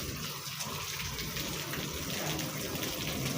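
Heavy rain pours down steadily, a dense, loud, unbroken hiss that stays close and even for the whole stretch.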